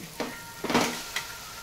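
Boiled egg noodles tossed and stirred in a hot pan with masala, giving a few scraping stirs over a soft, steady sizzle, close by with no talking.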